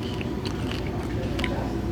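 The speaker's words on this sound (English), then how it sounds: "Oh, can you hear that crisp?" Close, crisp crunching of crispy Filipino pork being bitten and chewed, with several sharp crackly bites over a low steady background hum.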